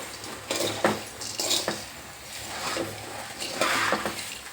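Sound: frying food on a low flame

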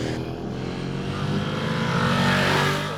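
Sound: sport motorcycle engine riding

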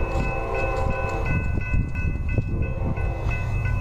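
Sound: freight train passing

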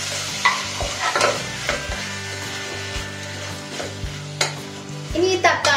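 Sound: stirring tomatoes frying in a pan

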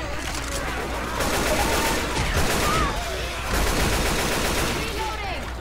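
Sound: gunfire in a video game

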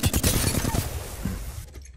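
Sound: Flatline rifle gunfire in video game Apex Legends

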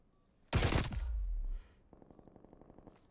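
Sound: gunfire in Call of Duty Cold War video game

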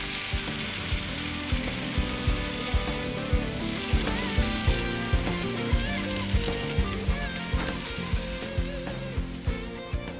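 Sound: tomato pieces and raw banana peels frying in a pan

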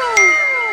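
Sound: phone message notification ding

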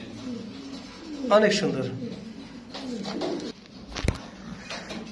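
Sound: king pigeons cooing

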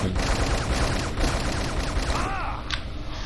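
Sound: gunfire in the video game WolfTeam

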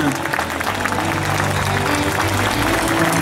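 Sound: crowd applauding for Jesus at a mission event

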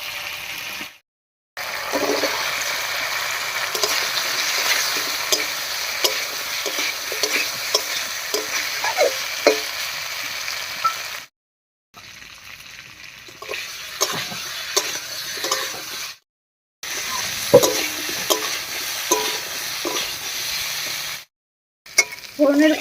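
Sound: boiled elephant foot yam frying in a pan

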